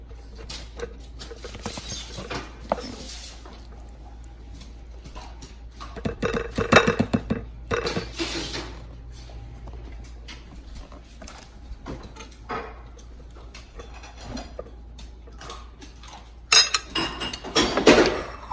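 A meal-kit pork dish is plated with dishes and cutlery, scattered clinks, scrapes and light taps of utensils on plates, sparse and close, with a louder cluster of clinks near the end.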